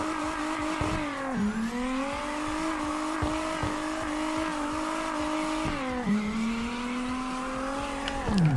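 A truck engine revving hard in CarX Drift Racing, a loud continuous buzzing drone that rises and falls in pitch, dipping sharply twice and climbing again, with faint tire noise.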